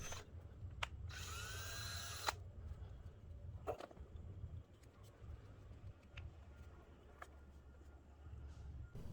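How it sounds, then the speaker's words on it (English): A small power drill whirs at high pitch for about a second, drilling a small air-release hole during a brake fluid bleed, then a few faint clicks and taps follow in a quiet room. "Let's make a small hole with a small drill bit."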